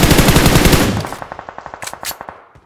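Automatic gunfire from the video game PUBG Mobile, a loud rapid burst that fades into a quieter run of evenly spaced shots, with a couple of brighter cracks near the end and no talking.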